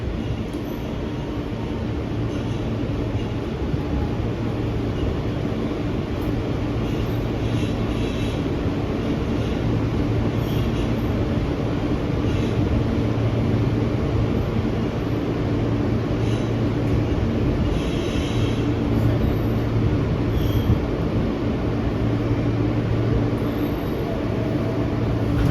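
An R160B Siemens E local train is heard from onboard on the New York City subway, heading toward Manhattan. The steady interior rumble and wheel-on-rail roar continue unbroken, with faint higher squeals and rattles.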